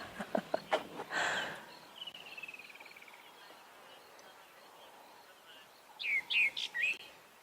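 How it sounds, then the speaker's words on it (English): Bird calls at dawn on a sunrise safari: a few sharp chirps at the start, a thin trilling call in the middle, then a louder burst of quick tweets near the end, against a quiet open-air background. "you enjoy listening to the bird calls"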